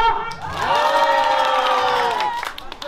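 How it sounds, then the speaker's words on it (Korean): An outdoor festival audience section claps and cheers loudly at a Korean folk culture fair performance, a dense sustained roar of many voices that swells quickly and holds for a couple of seconds before tapering off. "자 A 박수 함성"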